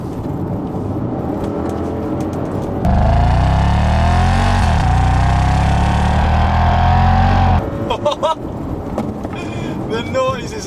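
Audi S5 engine in sport mode revving hard under acceleration, a loud rising roar that holds for several seconds before easing off, with someone talking before and after.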